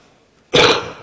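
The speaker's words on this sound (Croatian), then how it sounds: "Izvinjam se za ovaj kašalj." A single sharp cough from an adult man partway through a Serbian-language interview, loud and close, with a brief rough tail and no speech around it.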